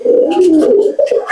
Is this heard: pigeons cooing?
yes